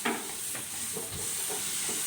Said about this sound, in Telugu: ఇప్పుడు దోశ వేసేసుకుందాం అండి